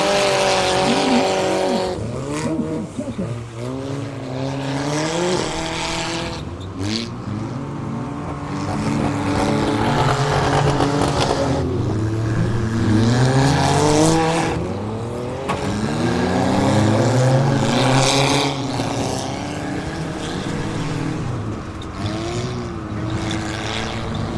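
Demolition derby cars race around an ice track at a winter arena event in Long Prairie, Minnesota, engines roaring and revving continuously and loudly, rising and falling in pitch as they pass, with crowd and arena noise beneath.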